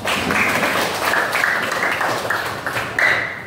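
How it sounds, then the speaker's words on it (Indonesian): A classroom audience applauding a student's presentation in a lesson on Japanese modernisation, a dense, steady patter of many hands clapping close by for several seconds, with no speech. "Tepuk tangan dulu buat Adin."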